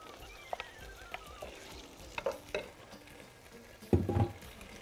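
Minced garlic and shrimp fry in a pan with a low, steady sizzle, broken by light spatula scrapes and taps and a louder burst of clattering stirring near the end.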